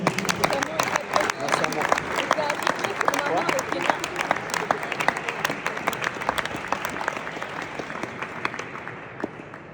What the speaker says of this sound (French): Donc je pense qu'on peut les applaudir pour les remercier.